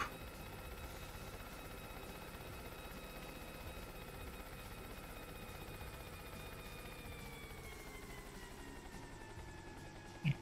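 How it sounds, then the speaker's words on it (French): A helicopter heard in the Yooka-Laylee game, its rotor whine holding a steady tone that slowly drops in pitch, droning faintly and alone throughout. "J'espère que ce bruit de palmes d'hélicoptère ne vous gêne pas trop."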